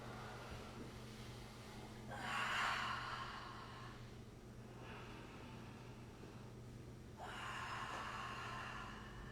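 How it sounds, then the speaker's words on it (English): Ujjayi breathing during a power vinyasa yoga practice, with slow audible breaths drawn in and out through the throat in long hissing waves, close and fairly soft over a faint low hum. "Ujjayi breath this whole practice. Deep belly breathing."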